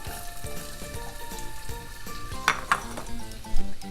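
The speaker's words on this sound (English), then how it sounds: "Wait till the oil is nice and hot and add in some onions." Onions sizzle in hot oil in a pan for fried rice, a steady close crackling fry with a few clinks of a utensil against the pan near the end.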